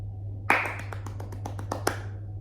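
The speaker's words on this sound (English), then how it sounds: "The court resounded with applause" Scattered claps from a royal court audience, a string of separate sharp hand claps spaced out over a steady low hum.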